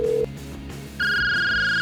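A mobile phone being dialed to place a call, with a brief tone followed by a steady, loud ringback-style dial tone sustained to the end, up close with no talking.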